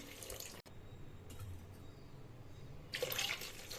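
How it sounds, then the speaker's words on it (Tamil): Water runs and splashes steadily into a cooking pot, two cups per measure, a soft continuous pour with a brief break near the start and a brighter splash toward the end. "1க்கு 2 கப் அளவு தண்ணி ஊற்றிக்கலாம்."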